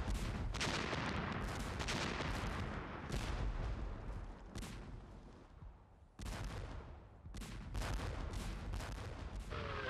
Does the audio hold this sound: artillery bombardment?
yes